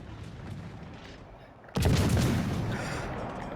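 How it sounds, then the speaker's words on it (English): A heavy naval gun salvo of armor-piercing shells in World of Warships Legends: one sudden loud boom after a quieter stretch, followed by a sustained rumbling roar that slowly fades. "I'm also still shooting armor piercing"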